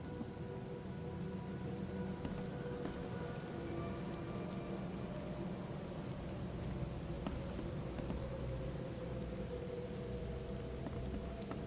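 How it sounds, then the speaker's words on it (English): Steady rain pours inside a house in The Sinking City Remastered, a game set in a spooky, flooded 1920s town; a dense, even hiss of drops striking surfaces holds at the same level throughout with no voices. "It's raining in the house."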